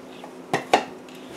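Two sharp utensil clinks against a bowl while soy sauce is mixed in, close and brief, with a quiet pause between them.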